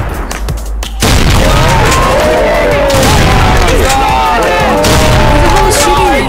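Gunfire aimed at the player in a video game, dense overlapping shots and booms that erupt after a quiet second and continue loudly, with chaotic battle noise and voices in the mix.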